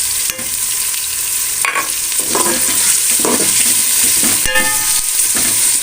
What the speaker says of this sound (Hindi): अदरक को पकने तक इंतज़ार करते हैं।